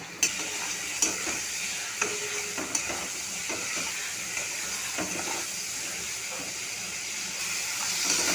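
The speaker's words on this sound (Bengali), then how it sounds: "লবণ, হলুদ গুঁড়ো, জিরে ধনে গুঁড়ো, লঙ্কার গুঁড়ো, সামান্য একটু জল দিয়ে মশলাটা কষিয়ে নেব।" Spice paste of chopped tomato, salt, turmeric, cumin, coriander and chilli powders is fried with a splash of water for a koi fish curry, giving a soft steady sizzle with scattered clicks and scraping taps from stirring, close and alone.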